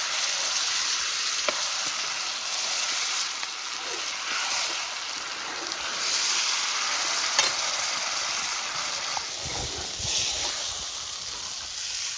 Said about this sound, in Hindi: और ये जो टोमेटो प्यूरे है इसको भी हम फ्राई कर लेंगे सारी चीज़ों के साथ।